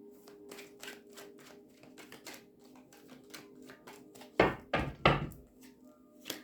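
Tarot cards shuffled with light papery ticks and flicks, then three loud sharp slaps near the end, close and clear with no speech.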